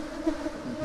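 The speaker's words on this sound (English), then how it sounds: "You can see clearly that the bees are working very serious." Honey bees buzz at an open hive, a close, steady droning hum that swells slightly, with no talking.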